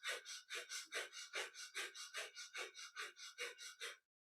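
Rapid, forceful breath-of-fire breathing in kundalini yoga, about eighteen evenly spaced sharp nasal exhales in quick rhythm, close and clear, stopping abruptly into silence.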